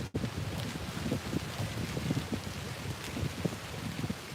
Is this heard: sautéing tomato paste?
no